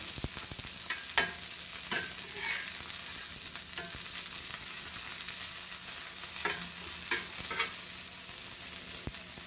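Goan anchovies (vellyo) frying in a pan without rava coating, a constant loud hiss of hot oil with a few sharp spatters and spoon taps, close up and free of speech.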